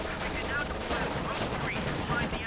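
Constant Company of Heroes 2 battle gunfire, dense machine-gun rattle and overlapping shots filling the whole stretch at a steady loud level, with a commentator's voice running underneath.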